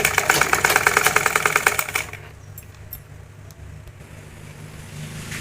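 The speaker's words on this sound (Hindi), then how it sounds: "अब हम पूरे इस पट्टी को वैसे ही हमें सिल के रेडी करना है" A sewing machine stitches a fabric strip for a bead-trimmed blouse, its rapid, even needle chatter loud and close for about two seconds before stopping, leaving a low hum and a few faint clicks.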